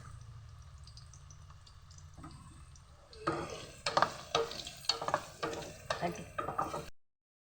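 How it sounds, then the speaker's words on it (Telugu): Raw green banana pieces fry lightly in a pan, starting as a quiet sizzle and turning into a series of close, rhythmic scrapes and clatters as they are stirred, then stopping abruptly. "అరటికాయ ముక్కలు కొంచెం లైట్గా గోల్డెన్ కలర్లో, అదే లైట్గానే వేయించుకోవాలి."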